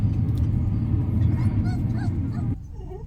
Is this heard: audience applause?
no